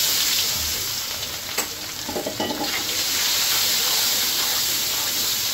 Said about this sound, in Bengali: পেঁয়াজটা সুন্দর মতো ভাজা হয়ে গেছে, লাল লাল করে